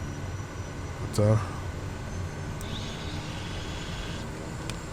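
A Simworks Studios Kodiak 100 propeller engine in Microsoft Flight Simulator 2020 gives a steady, low drone at constant RPM throughout, with a brief spoken word over it.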